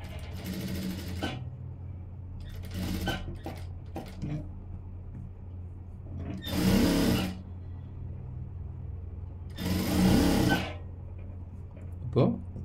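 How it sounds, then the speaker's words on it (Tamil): A sewing machine stitches blouse fabric in short bursts of rapid whirring, with two louder runs and quiet pauses between them. The machine is close, and faint background noise carries through the gaps. "இப்போது தைக்க ஆரம்பிச்சிடலாம்."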